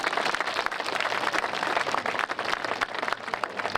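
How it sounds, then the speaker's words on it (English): Audience applause at an outdoor flag raising ceremony for Irish Week, steady dense clapping from a crowd that carries on without break for about four seconds, with no voices over it. "Please join me in one round of applause for all these folks."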